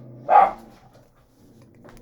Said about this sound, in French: il n'y a pas besoin de crier, il n'y a pas besoin d'aboyer